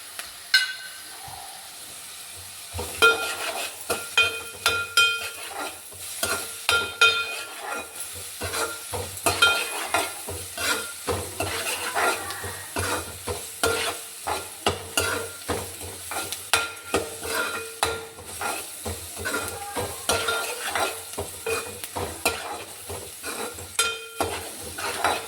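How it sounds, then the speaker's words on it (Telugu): Chopped onion pieces fry in a hot pan for a fish curry, a steady sizzle under repeated scraping strokes of a spoon stirring against the pan, with no talking. "ఉల్లిపాయ ముక్కలు కొంచెం వేగినవి."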